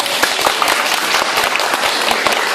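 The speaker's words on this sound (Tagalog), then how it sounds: "Kay Daddy Paul, palakpakan!" An audience at a child's first birthday party applauds for a contestant called Daddy Paul. Dense, even clapping fills the whole short burst at close range.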